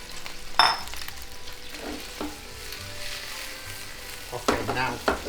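Tomatoes fry in extra olive oil in a pan, giving a steady moderate sizzle with occasional sharper pops and stirring scrapes, close and without talk.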